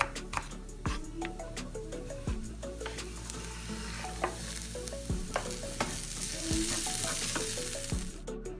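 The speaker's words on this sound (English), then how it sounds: "Chop 2 or 3 cloves of garlic and add." Chopped garlic and red chili flakes with chopped onion stirred in a pan: a steady soft sizzle of frying, broken by repeated sharp scrapes and knocks of a utensil against the pan, fairly quiet and close, with no talking.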